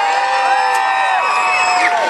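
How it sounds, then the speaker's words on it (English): Crowd at a ballroom dance championship cheering and whooping for a competing couple, a loud sustained wash of voices with shrill whistles and shouts across the whole moment. "Let's see a cheer for that."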